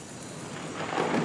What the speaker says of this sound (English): It seems that another storm is closing in.